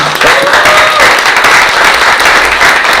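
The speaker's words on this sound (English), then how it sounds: "So we should give them a round of applause, I think" Loud, continuous applause fills the room at a Peoria school board meeting, a thick steady roll of many hands clapping with no speech on top.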